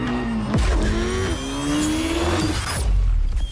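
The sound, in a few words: car engine revving in a video game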